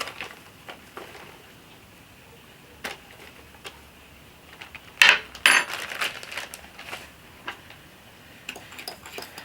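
Spoon or whisk stirring a marinade with Raz-El-Hanout spice in a bowl for a lemon and honey lamb tajine, heard as faint, scattered ticks and clinks with a brief louder scraping burst midway.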